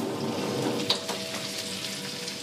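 Fish frying in a wok for sour soup fish, one side already cooked and the fillet flipped to brown the other. A faint, steady low sizzle runs throughout with a soft crackle near the middle.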